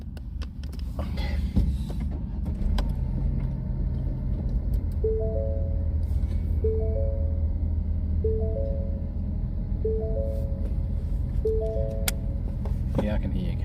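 A car engine idles while warming up, a steady low rumble under a repeating electronic chime, recorded close from inside the vehicle.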